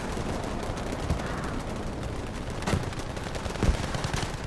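Battle of Iwo Jima combat in Battlefield 5 rumbles with continuous heavy gunfire, distant rattling bursts and a few louder nearby shots rising above a dense wash of battlefield noise.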